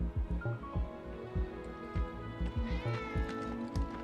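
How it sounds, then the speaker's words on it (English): A cat meows several times in an LA Noire game scene, short rising calls spaced through a few seconds over a steady low background with footstep-like thumps. "Wait, did you hear that just now? The cat's standing right there."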